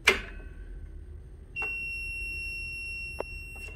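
A continuity tester touched to a plasma cutter torch plug gives a sharp electronic beep that sustains as a steady tone, preceded by a click and followed by faint contact ticks, close and clear with no talk.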